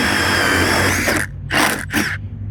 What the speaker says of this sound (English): I'm just gonna drill through a 2x4.